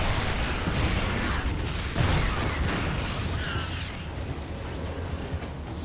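Siege tank being destroyed by Zerg units in a StarCraft 2 match: a dense, continuous wash of explosive booms and battle noise, loud and steady with a stronger burst near the middle, no speech.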